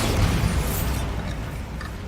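Bombarda blasting spell in Hogwarts Legacy detonates with a broad boom and crackling burst that fades into a lingering rumble.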